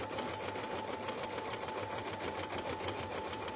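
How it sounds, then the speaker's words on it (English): Embroidery machine stitching an in-the-hoop heart design for a slap bracelet, a steady, rapid mechanical whir with a fast needle rhythm, close and continuous with no talk. "we'd be sitting here forever waiting for it to stitch out"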